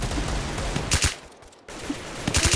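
Rapid bursts of video game gunfire from a shooter with sniper rifles, shotguns and automatic weapons, a loud clustered volley, a brief lull, then more shots.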